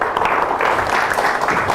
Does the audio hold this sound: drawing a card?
no